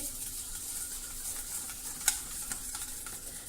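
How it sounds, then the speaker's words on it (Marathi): Yogurt whisked with sugar and salt in a bowl for dahi poha, a soft continuous scraping stir with a few light taps of the utensil against the bowl, close and quiet. "आता आपल्याला हे छान फेटून घ्यायचं आहे"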